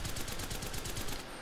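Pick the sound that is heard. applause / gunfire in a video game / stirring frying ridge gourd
gunfire in a video game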